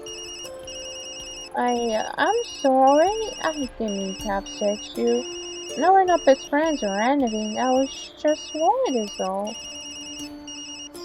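A mobile phone ringtone from the video game Tokyo Dark, a melodic electronic tune ringing repeatedly over a faint high beeping pattern, while a voice speaks briefly beforehand.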